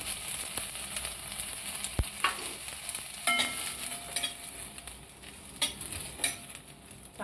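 Garlic, sesame seeds and coconut roast in a pan, giving a soft, steady sizzle with occasional sharp clicks and scrapes of a spoon against the pan.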